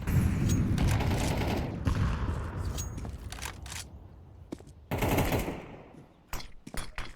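Rapid bursts of gunfire from the shooter game CrossFire, loud and dense through the first seconds, then scattered shots and sharp bursts returning near the end, with no talk.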